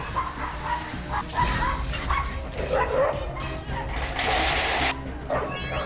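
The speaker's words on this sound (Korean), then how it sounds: "미처 막을 새도 없이 윗집 개들에게로 달려가 흥분하며 싸움이 붙는 건데요" Several dogs bark, yip and whimper excitedly as they rush at and scuffle with the upstairs neighbor's dogs, a dense, loud, continuous flurry of close and overlapping barks with brief crashing noises.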